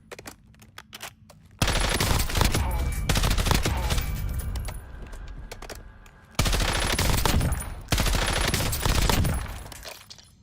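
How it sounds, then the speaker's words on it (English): Assault rifle with a 30-round magazine firing in Warzone, loud sustained automatic bursts in two long strings separated by a short pause, with quieter shots trailing off between them. "And that makes the gun shoot faster."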